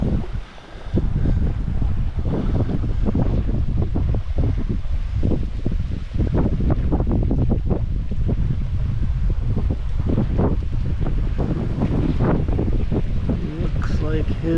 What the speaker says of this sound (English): Wind is still blowing